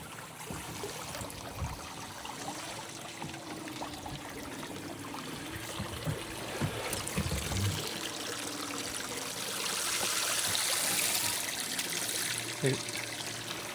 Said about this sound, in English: Is the water seeping back in?